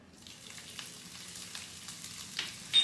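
Ginger frying in hot ghee, a soft, steady sizzle with faint crackles throughout, quiet and close, with a sharper pop near the end and no talking.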